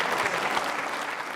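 Trainee state civil services officers at a quiz show burst into loud, continuous applause, a thick unbroken clatter of many hands throughout.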